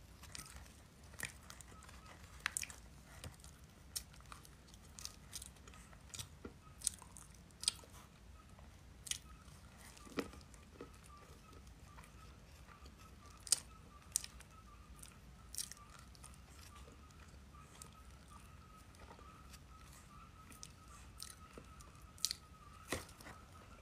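Hard matcha-powdered ice is bitten and chewed up close, with scattered crisp crunches and crackles over a quiet, hushed background.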